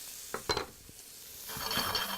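Steak in olive oil sizzling in a hot pan at a hotel breakfast, a soft hiss rising after a few clinks and knocks of utensils against the pan.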